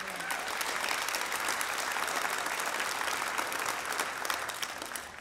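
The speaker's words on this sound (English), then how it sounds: "we want to again round applause for them" Dense crowd applause fills a school's fifth grade graduation ceremony, a steady wash of many hands clapping at full strength from start to finish without a break.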